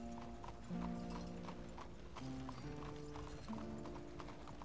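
Horse-drawn carriage hooves clip-clop at a steady trotting rhythm in Red Dead Redemption 2, loud and close, with sustained musical tones underneath.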